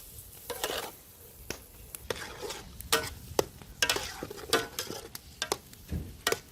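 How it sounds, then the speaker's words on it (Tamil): Eggs are stirred constantly in a frying pan while making Sri Lankan mutton kothu roti, with irregular scraping and clicking of a utensil over a soft sizzle, close and fairly quiet, with no voices. "முட்டை அடிப்பிடிக்காம இருக்கணும் என்பதற்காக தொடர்ந்து கிளறி கொண்டு இருக்கணும்."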